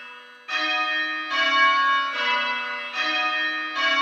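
Three church bells ringing plain hunt, their clear metallic strikes following one another in a steady, even rhythm, each tone ringing on loudly and close with rich overtones.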